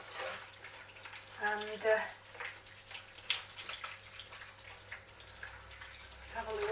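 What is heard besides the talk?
water rinsing out a plant basket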